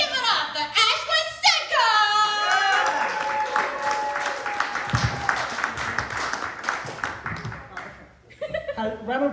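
Audience at a comedy night claps and laughs as a comedian is introduced, applause swelling then thinning out, while music and voices sound over and between the clapping.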